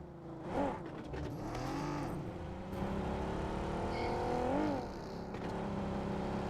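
A vehicle drives on the Miramar map in the video game PUBG. The engine drones steadily and rises and falls in pitch with revving and shifts, with faint tire noise along the way.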